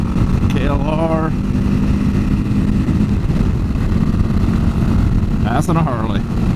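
A 2022 Kawasaki KLR650 motorcycle rides along the road, passing a Harley, its engine a loud continuous drone with wind rush throughout and brief rising whines from other passing engines.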